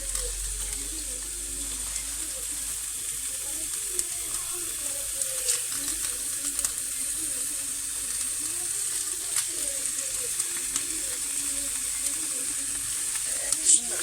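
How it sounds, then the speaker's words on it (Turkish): Diced meat pieces laid into a hot pan for buttery rice pilaf sizzle steadily, a bright, continuous frying hiss with small pops and faint clinks of placement, no talk. "Kızgın tavama yavaş yavaş bırakıyorum."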